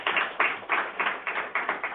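Audience at a school rally clapping with a steady, pulsing rhythm, the applause close and moderately loud with no talk over it.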